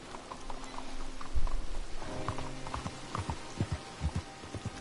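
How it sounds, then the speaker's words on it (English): Horse hooves clip-clop at a steady trot in the Red Dead Redemption video game, repeated thuds fairly close over a busy game soundscape, with no talk. "You got a horse? Get on it."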